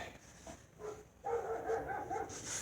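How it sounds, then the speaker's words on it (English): Several dogs bark in the background, faint and distant. The barks form a quick run of yips and bow-wows that picks up after a moment, over a low indoor hum. "Oh, dogs are going at it once again, like always."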